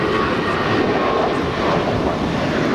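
An ANA Nippon Airways heavy airliner departs Los Angeles International bound for Tokyo Narita, a steady, loud broadband engine roar filling the clip without a break and with no voices over it.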